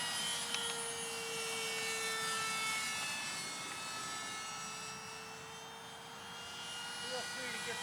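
A 1/13 scale Bomarc missile RC propjet flies overhead at an airfield, its engine a steady whine that swells and fades as it passes, with someone talking over it.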